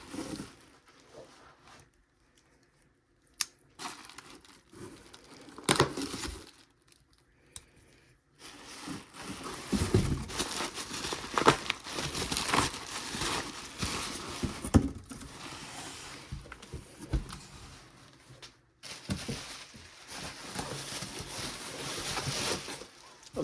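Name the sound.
unpacking a packaged HP ZBook 15 laptop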